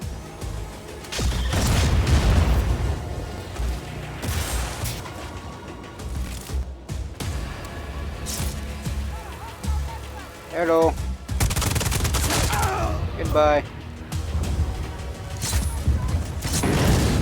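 Cannon fire and destruction in the Just Cause 4 video game, with repeated heavy gunfire bursts and booms coming close and loud, mixed with game voices talking over the action.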